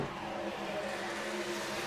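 A racing truck engine in a racing video game revs hard at sustained high speed, a steady droning roar with tonal whine and no break, heard alone.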